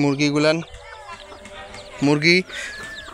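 Two short bursts of chicken clucking, close by, with quiet rustling and faint background chatter in between.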